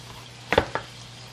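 A kitchen knife slices thinly through an onion, cutting it into rounds for a pan-grilled eel dish made at home: two or three crisp cuts close together, then quiet.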